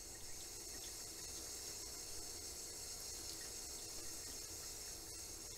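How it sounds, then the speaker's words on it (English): Low, gentle flow of sink tap water rinsing etching cream off a glass mug, a steady soft hiss throughout with no talking. "have low flowing water because you definitely don't want it to splash"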